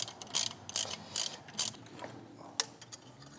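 A ratchet wrench loosens the 10mm nut on a charge pipe bracket of a 2021 Toyota Supra, giving several quiet, short bursts of rapid clicking separated by pauses.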